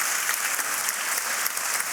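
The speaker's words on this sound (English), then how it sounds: "Can we please give our speakers one last round of applause?" A debating chamber audience at the Cambridge Union gives the speakers a final round of applause, a sustained, even wash of many hands clapping.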